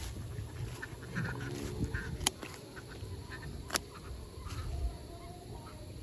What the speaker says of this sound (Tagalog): Yung mga itik, oh.